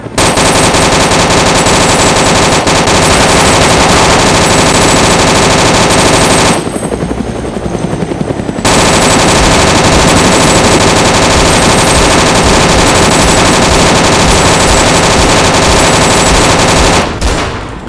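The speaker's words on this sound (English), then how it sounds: "Fuck, I'm getting shot at." Sustained, loud machine gun fire in Arma 2: DayZ Overpoch, nearly continuous rapid bursts with one short pause midway before the shooting resumes and then cuts off near the end.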